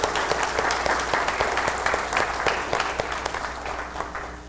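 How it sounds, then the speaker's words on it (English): An audience gives a steady round of applause for event organisers at an anti-aging technology presentation. Dense clapping runs loud and continuous the whole time, with no talk over it. "Could we also have a nice round of applause for Steve and Terry and the crew for putting this together every year?"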